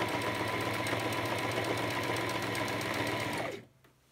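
Sewing machine running steadily while stitching a patch onto a military uniform, a continuous close, loud mechanical whir with rapid needle rhythm that stops abruptly near the end.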